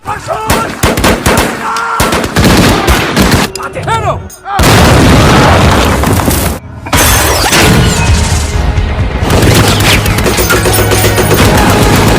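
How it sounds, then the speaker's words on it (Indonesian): Battle gunfire from the WWII tank war film Fury, with American troops trading fire against German soldiers: dense, loud bursts of shots, booms and crashing impacts layered over a film score, with brief drops to near silence. "Dan terjadilah baku tembak melawan tentara Jerman."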